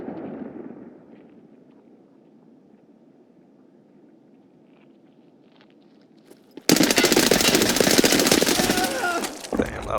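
Gunfire in the shooter game Escape from Tarkov, a sudden loud burst of rapid shots and clatter after several seconds of quiet low ambience, continuing densely for about three seconds before cutting off.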